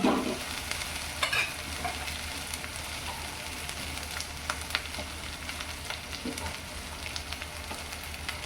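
Red masala sizzles and crackles steadily in a pan as it is stirred into mutton kalji, a continuous frying hiss with occasional scraping stir strokes and no talking.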